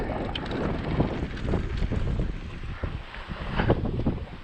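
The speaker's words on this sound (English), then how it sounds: "Oh, it's windy though." Wind buffeting outdoors at a farm, gusty rumbling bursts that rise and fall irregularly, close and fairly loud with no talk.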